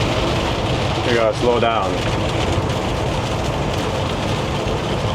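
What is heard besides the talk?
rain falling on a road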